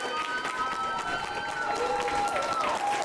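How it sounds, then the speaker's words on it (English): A round of applause from an audience at a mentoring community speaker and awards ceremony, a steady continuous clapping wash with some tonal feedback or ringing over it. "Let's give her a big round of applause."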